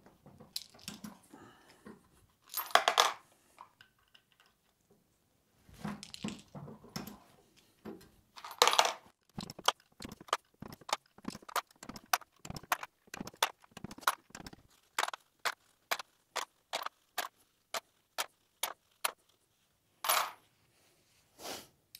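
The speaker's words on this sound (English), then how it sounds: "we should now be ready to go ahead and size all the brass for this test" Brass rifle cartridge cases being sized at a reloading bench: a long run of sharp metallic clicks and clinks, sparse at first and then quickening into a steady rhythm, close and fairly quiet.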